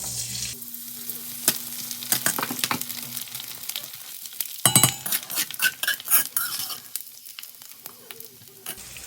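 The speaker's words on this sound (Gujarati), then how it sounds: "તો આપણે આને ફ્રાય કરવાનો છે. તો ઘી આપણું ગરમ થઈ ગયું છે." Edible gum (gond) fries in hot ghee, a steady crackling sizzle broken by frequent sharp clinks of a utensil stirring against the pan, with no talking.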